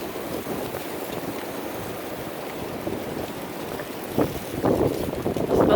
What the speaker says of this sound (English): and you can hear that wind